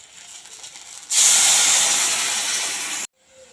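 Water mixed with amchur and poppy seed paste is poured into a hot pan for a fish curry, bursting into a loud, steady steaming hiss that runs about two seconds and then cuts off abruptly.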